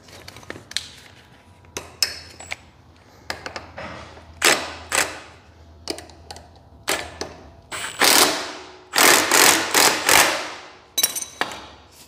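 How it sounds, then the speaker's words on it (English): Nut being tightened on the front wheel fork of an Exmark Staris stand-on mower: a close, loud run of sharp metallic clicks and ratcheting bursts, irregular at first, then quicker and denser clusters of turns. "Take your nut and tighten it."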